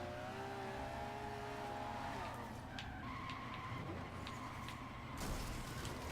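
A car drifts sideways through a turn in the Forza Horizon 2 video game, its engine droning and tires squealing and skidding continuously, all under a steady game soundtrack.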